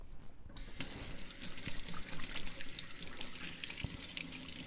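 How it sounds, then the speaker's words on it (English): Running kitchen tap while hands are rinsed during pork roast preparation: a steady, close splash of water with small irregular spatters, fairly quiet and uninterrupted throughout. "I'm going to rinse my hands."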